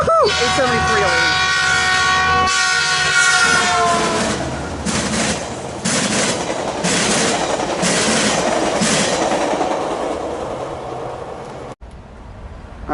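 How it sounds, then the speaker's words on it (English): A Metrolink 732 passenger train passes at Commerce with a loud horn blast at the start, then a sustained roar and clickety-clack of wheels close by, fading out near the end; a voice cheers over it. "Here's Metrolink 732, I believe, to Paris South. About to pass right now."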